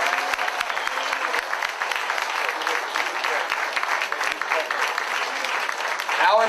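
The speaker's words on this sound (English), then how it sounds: "Please give him a round of applause." Audience applause for Congressman Jerry Lewis at a Tea Party meeting, a dense, steady clapping from a large crowd that runs for the full span at even loudness.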